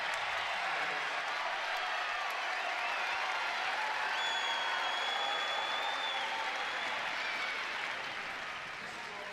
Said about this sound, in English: It's the loudest we've heard this First Bank and Trust Arena crowd in this third set